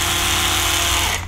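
An electric toothbrush runs continuously close by, giving a loud, steady buzzing hum with a tonal whine that cuts off abruptly near the end.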